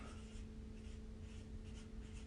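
A pen scratches steadily across paper, close and continuous, with short strokes over a faint low hum and no voice.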